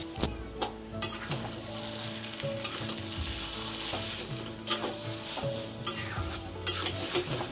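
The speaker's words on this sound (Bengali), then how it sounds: "এভাবে শুধু টানিয়ে গেছি 15-20 মিনিট ধরে মিডিয়াম ফ্লেম করে" Food frying and being stirred in a pan over a medium flame, steady sizzle with repeated scraping strokes of a utensil, close and fairly loud with no talking.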